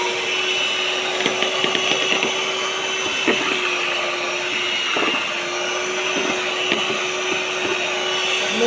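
An electric hand mixer whirs steadily through cake batter, a continuous buzzing drone with faint scraping knocks against the bowl, close and loud throughout with no pauses.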